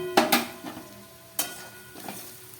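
A spoon scrapes and stirs fish curry masala with garlic, ginger, black pepper, dried chili powder and a splash of water in a frying pan. A few close, distinct scrapes sound over a soft, steady sizzle.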